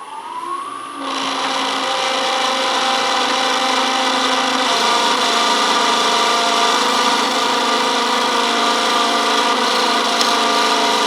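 A wood lathe turns a yarn bowl from a dry, soft bowl blank on a final pass, with a steady loud motor whine and a continuous cutting hiss that runs alone for about eleven seconds after the machine spins up.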